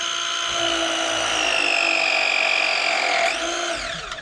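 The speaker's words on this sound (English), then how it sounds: "let's press the 1/2 inch on this side first" A motorized press tool crimps a 1/2 inch pipe fitting on a 14-year-old gas water heater, giving a steady, loud mechanical whine for about three seconds that then drops in pitch and winds down.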